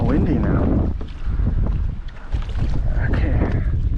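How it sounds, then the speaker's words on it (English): Strong gusting wind buffets the microphone on a pedal kayak out on open water off Deering Point, Miami, a loud roaring rush that dips briefly and returns, with the speaker talking faintly under it. "Oh man, it's a lot more windy now."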